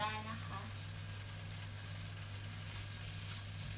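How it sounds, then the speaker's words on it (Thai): Egg and shrimp sizzle as they are added to pad thai noodles in a hot pan, a continuous steady frying hiss with a constant low hum beneath and someone talking over it. "เส้นเริ่มสุกแล้วนะคะเทนก็จะมาใส่ไข่แล้วก็กุ้งลงไป"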